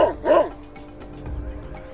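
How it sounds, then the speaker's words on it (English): A dog gives two quick, sharp barks close up, followed by a quieter low rumble in the background. "a dog barking"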